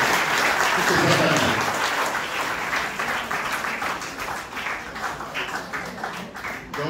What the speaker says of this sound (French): Donc tous vos applaudissements pour ces